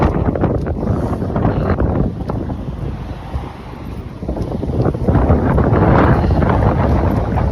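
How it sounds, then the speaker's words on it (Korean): Strong wind blows hard and steadily outdoors, roaring and buffeting the microphone with continuous rumbling gusts and no voices. "바람이 굉장히 많이 부는 날입니다"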